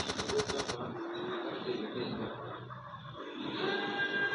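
Rapid automatic gunfire from GTA San Andreas during a police chase, a fast burst of close shots followed by loud, steady engine and traffic noise.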